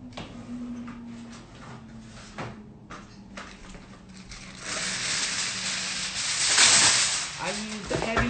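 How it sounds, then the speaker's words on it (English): A heavy duty aluminum foil roll in a home kitchen, handled with soft rustles and bumps, then a long strip pulled and crinkled with a bright, loud crackle up close, and faint voice in the background. "let me go get that aluminum foil"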